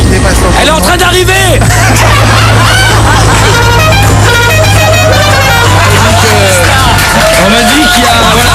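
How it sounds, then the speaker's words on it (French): A melodic Italian-style horn fitted to a helicopter toots loudly in a dense, noisy scene, with crowd babble and steady engine drone underneath throughout. "elle a mis un klaxon italien sur son hélico"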